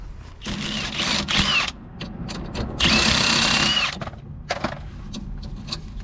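A socket wrench works a 17 mm bottom bolt on the strut of an Infiniti G35 coupe, giving bursts of fast ratcheting clicks with a longer steady whirring run in the middle, close and fairly loud, with no talk.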